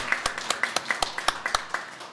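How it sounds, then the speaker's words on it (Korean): A small symposium audience claps in a sparse, rhythmic pattern, with individual hand claps landing roughly every quarter second, close and distinct. "이원덕 원장님과 이상호 원장님, 이승용 팀장님, 김재국 교수님께 다시 한번 큰 박수 부탁드리겠습니다."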